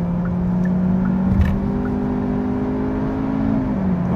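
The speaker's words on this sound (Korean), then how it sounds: "지금 70 풀악셀을 이렇게 밟아보면" A 2023 Hyundai Avante 1.6 gasoline sedan at full throttle from 70 km/h in normal drive mode gives a loud, steady engine drone that climbs smoothly in pitch, heard from inside the cabin.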